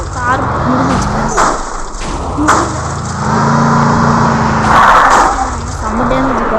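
Car engine in the battle royale game Free Fire, a steady droning motor with rising and falling pitch that continues throughout, loud, with someone talking over it.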